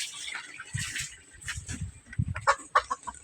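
Backyard chickens of the Sweater White Leg bloodline, a young bird still molting at the neck and tail, give scattered clucks and short calls that sharpen toward the end, set against low rustling and handling noise.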